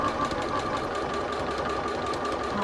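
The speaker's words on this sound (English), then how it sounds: "we're going to sew right on that line" A sewing machine stitches a quilt block along a marked line, giving a steady close mechanical whir with a fast rhythmic chatter that runs unbroken throughout.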